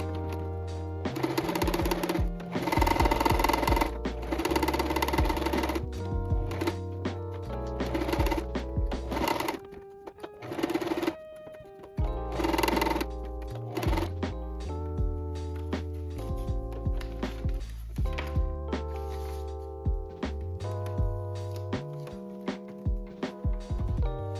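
A sewing machine stitches yarn hair down the middle in bursts of loud, rapid mechanical whirring, stopping and starting repeatedly, while music plays throughout.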